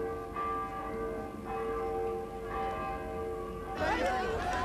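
Church bells ring steadily during a Lithuanian independence demonstration in Vilnius during Gorbachev's visit, their sustained tones held over a crowd murmur that swells near the end.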